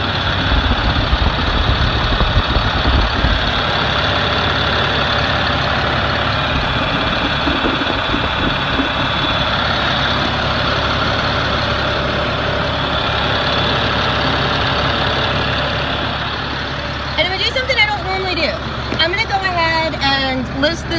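Truck with a Cat 7.2 diesel engine idling nearby, a steady low rumble and vibration that runs throughout, with a voice talking over it near the end.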